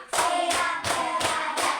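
Young pupils clap in time with a counted classroom chant, five sharp, close claps falling at steady intervals of roughly 0.35 seconds, loud and unaccompanied by speech.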